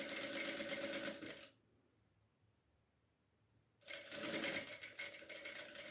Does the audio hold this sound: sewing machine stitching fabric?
yes